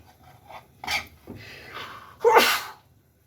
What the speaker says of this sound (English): This sneeze was due to the spices which I added